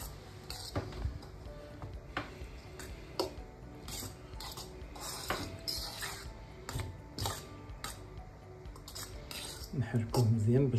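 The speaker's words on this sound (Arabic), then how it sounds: "نحركوه مزيان باش الزبده تدخل في الكسكسو كامل" A spoon scrapes and clinks against a dish while couscous is stirred with butter, giving irregular metallic taps and scrapes that run steadily under occasional background voice.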